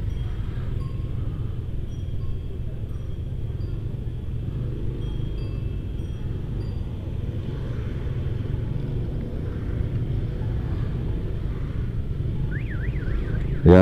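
Traffic jam noise during a parade in Tulungagung, Indonesia, heard as a steady low rumble of idling cars and motorbikes, with faint distant tones above and a sharp loud burst at the very end.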